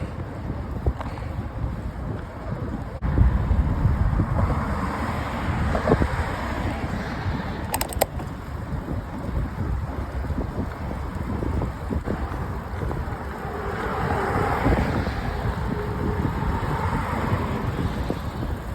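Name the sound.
headwind blowing while cycling up a bridge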